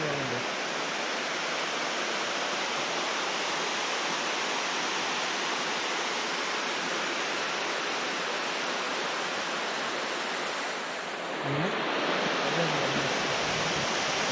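Water rushes steadily over Chiklihole dam in Coorg, a loud, broad continuous roar close by, briefly dipping near the end as a voice cuts in.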